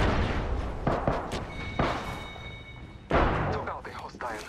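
Frag grenade blasts in Apex Legends, several sharp booming bursts with rumbling tails spread over a few seconds, loud and close, mixed with a voice speaking over the action.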